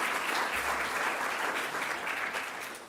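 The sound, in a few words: audience applause for conference panellists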